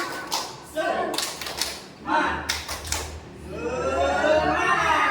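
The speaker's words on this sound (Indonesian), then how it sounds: "Sekali lagi, tepuk semangat" Classroom group doing the 'tepuk semangat' ice-breaker clap during a teachers' positive-discipline session, with bursts of sharp rhythmic clapping at close range alternating with a leader's voice and group chanting.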